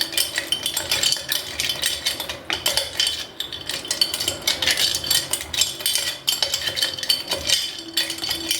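A spoon stirring a lemon masala soda mixture in a glass, with rapid continuous clinks and scraping that run steadily and fairly close throughout.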